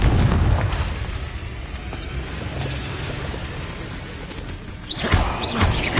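A Confringo blast from the Hogwarts Legacy game bursts with a deep boom and crackling whoosh, followed by a second impact, while a voice speaks over the game sounds.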